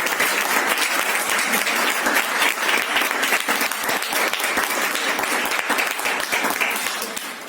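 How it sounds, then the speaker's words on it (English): A large audience claps at a satsang gathering, dense continuous applause with sharp individual claps standing out, loud and sustained before tapering slightly at the end. "let's put a big round of applause to her"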